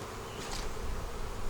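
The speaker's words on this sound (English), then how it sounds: "All right, bees everywhere, of course." Honey bees swarm around an open hive frame during a post-harvest colony split, a dense steady buzzing close by with no talking.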